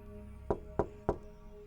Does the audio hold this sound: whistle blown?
no